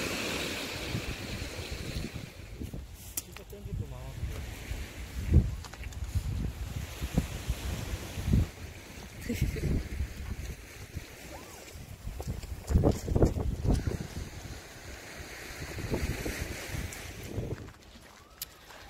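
On a cold, windy seashore, gusts buffet the microphone in low rumbling bursts over a steady wash of waves, with the blustery swells rising and falling for almost twenty seconds.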